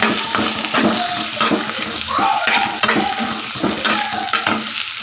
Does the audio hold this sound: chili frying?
yes